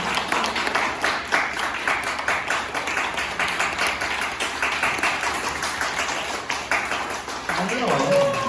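Youth church congregation clapping as students promoted from middle school to high school come forward for gifts, a rhythmic steady patter of clapping, moderately close, continuing for several seconds before fading into voices and movement near the end.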